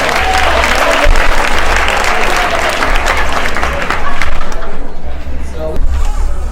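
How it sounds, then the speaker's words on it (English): A room full of teachers at a training session gives a dense, steady round of applause, close and continuous, with a low background hum and faint voices underneath. "Big round of applause."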